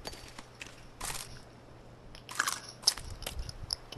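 Crunchy biting and chewing of snack bars in a horror Minecraft-style video game, with quiet bursts of munching spread across a few seconds against a faint background hum.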